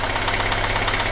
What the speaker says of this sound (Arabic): شوفوا الموتور كيفاش يتحرك